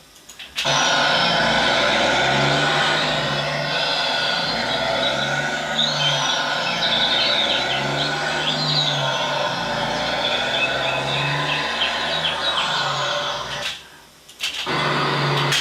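A loud, steady truck engine sound effect rumbles continuously for most of the clip without gear changes, cutting off briefly near the end before resuming.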